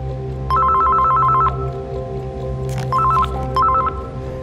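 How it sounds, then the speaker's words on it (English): A telephone rings in bursts of a warbling electronic trill, one longer ring followed by two short ones, over a low background hum. "Having his phone ring at odd times is nothing unusual"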